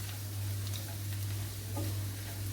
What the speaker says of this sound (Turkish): Şimdi salçasını ilave ediyorum. Şöyle karıştırıyoruz.